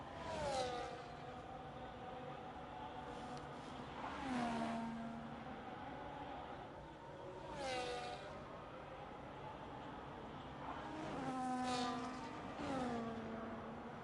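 An Alpine race car lapping the Great Britain circuit in a racing video game, its engine rising and falling through repeated upshifts and revs, steady and close throughout with no voices.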